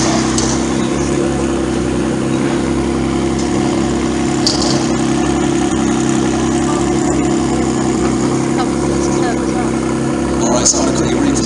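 A car engine runs at a supercar parade in a steady, close rumble and idle, with faint revving and crowd noise around it and someone talking over it.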